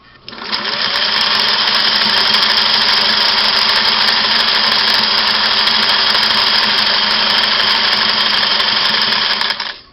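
Singer 503A sewing machine sewing a zigzag stitch with a longer stitch length, a loud, steady, fast mechanical whirring and clatter running continuously for about ten seconds, close up.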